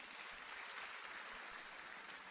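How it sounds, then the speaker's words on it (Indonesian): A church congregation claps during a worship service, a dense, continuous wash of hand claps sustained evenly for a couple of seconds, heard at a distance and fairly soft. "Beri tepuk tangan yang meriah buat Tuhan."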